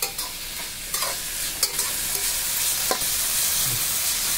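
Carrot, beans and capsicum stir-frying in a pan for vegetable fried rice, a steady sizzle broken by several sharp scraping knocks of the spatula, close and alone with no talk.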